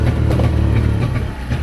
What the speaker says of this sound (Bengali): ইঞ্জিন স্টার্ট করে দিয়েছে।